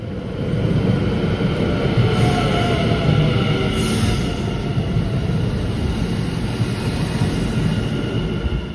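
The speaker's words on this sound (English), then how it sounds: "Here comes a sprinter to Dordrecht." A Dutch NS Sprinter regional passenger train rumbles past nearby, a steady broad roar with faint rhythmic clatter of wheels and a brief high squeal, lasting the whole stretch.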